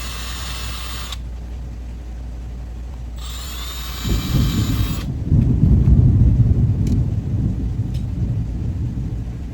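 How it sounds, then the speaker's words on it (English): Low rumbling thunder rolls in midway and swells beneath a steady wash of rain during hurricane season, with bursts of mechanical whirring earlier on. "It's thundering and raining outside."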